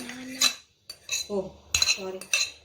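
Ripe banana mashed with cutlery in a bowl: a few separate clinking, squishing strokes in uneven rhythm, close and moderately loud, with short quiet gaps between.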